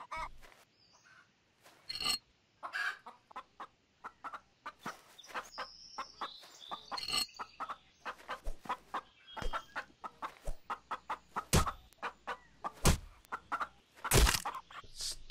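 Chickens in the survival game Gone Survival cluck in short, repeated bursts throughout, with occasional sharper honk-like calls and a few loud thumps near the end, with no speech over them.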